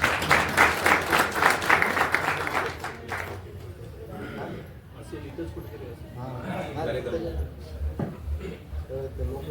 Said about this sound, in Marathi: टाळ्या वाजवा सांगायची गरजच नाही